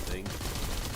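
Gunfire in The First Descendant video game aimed at an iron object, a dense, rapid burst of shots filling the brief moment at close range.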